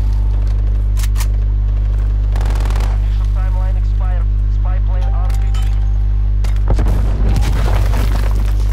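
A grenade goes off in a multiplayer shooter: heavy booming blasts burst over a constant low hum, a smaller crack first, then a big explosion, and a final rumbling detonation, with someone talking in between.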